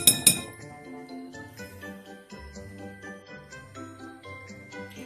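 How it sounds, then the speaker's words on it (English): A fork stirs flour for oatmeal cookies in a bowl, giving a couple of bright clinks at first and then a steady run of light, rhythmic tinkling scrapes against the dish, close and fairly quiet. "just take your fork and you move it around just until it's nice and loose"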